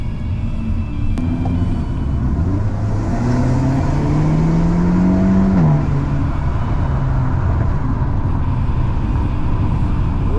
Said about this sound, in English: Este es un motor de 2 litros turbo con 271 caballos.